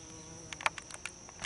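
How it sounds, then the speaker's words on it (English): A carpenter bee buzzes faintly in a garden, its thin drone passing close with a few brief, sharper bursts against quiet outdoor background. "Did you see that carpenter bee too?"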